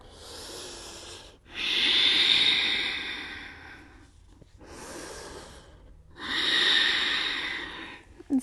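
Slow, audible breaths held during a yoga pose, long drawn-out inhales and exhales alternating in a steady rhythm, close and fairly loud with brief quiet gaps between them.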